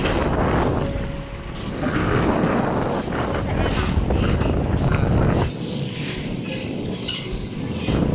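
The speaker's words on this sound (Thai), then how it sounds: "บรรยากาศดีอ่ะลมดีอ่ะ" Strong wind before rain roars and buffets steadily against the microphone, a loud, continuous rush that eases slightly near the end.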